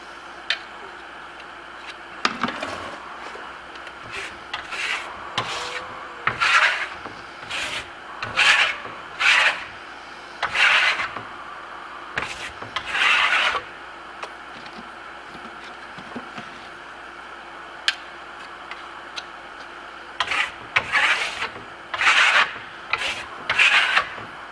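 A trowel works base plaster mixed with antique bronze, producing intermittent scraping and rubbing strokes in clusters over a quiet steady hum, with a lull in the middle before the strokes resume.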